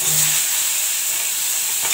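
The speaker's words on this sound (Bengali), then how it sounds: "উচ্ছে আর আলুটা কড়াইতে দিয়ে দিলাম" Bitter gourd and potato pieces sizzle steadily in a kadai of hot oil tempered with mustard seeds and a little nigella, a continuous close frying hiss with no talking.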